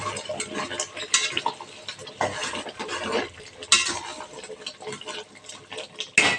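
Spoon stirring salted gravy in a cooking pot, with repeated scraping and clinking strokes against the metal and a light wet sizzle, close and fairly loud with no talking.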